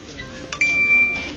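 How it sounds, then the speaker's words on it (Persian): An iPhone mobile payment confirmation chime, a single short, bright tone that rings and fades over about half a second. "صدا هستش که شما وقتی با گوشیتون خرید میکنین، فکر کنم رو گوشی آیفونه"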